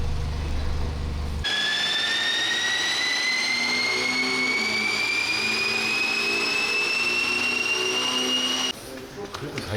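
A BMW 428 runs on a chassis dyno, giving a steady engine roar with a clear whine that climbs slowly in pitch for about seven seconds before cutting off abruptly.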